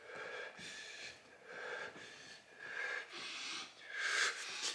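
A person deliberately breathes loud and wheezy, imitating an asthma attack: a series of about six strained, rasping breaths in a slow uneven rhythm, close to the microphone.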